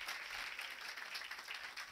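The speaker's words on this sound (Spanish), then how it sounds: "fuerte el aplauso para Roxy" Applause for Roxy at the closing ceremony of a symposium's working-group plenary, with a steady, even wash of clapping from an audience that holds for the full two seconds, fairly distant and unbroken.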